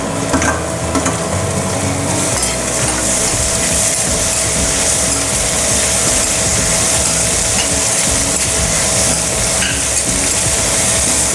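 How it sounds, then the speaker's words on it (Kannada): Onion and capsicum sizzle loudly in a hot pan, a dense, steady hiss of frying with stirring scrapes running throughout. "ಈರುಳ್ಳಿ ಸ್ವಲ್ಪ ಫ್ರೈ ಆಗಲಿ."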